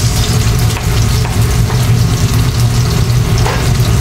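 Ginger, onion, garlic and chili sautéing together in a pan, a loud continuous close-up sizzle and crackle with no one talking.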